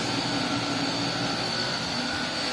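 A Fujidenzo portable air conditioner runs with a steady, fairly loud fan whoosh and hum, an even drone with no talking.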